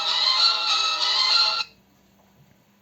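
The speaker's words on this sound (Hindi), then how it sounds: "फ़ोन के अंदर से गाना बजाया मैंने" A song from a phone plays through the small speaker of a Fire-Boltt Invincible smartwatch, a bright, tinny burst of music for about a second and a half that stops abruptly, leaving near silence.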